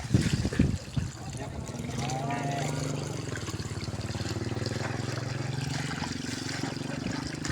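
Water spraying and trickling over the engine of a Volkswagen Kombi during a wash, a steady close hiss and dribble running almost the whole time, with a short louder burst near the start.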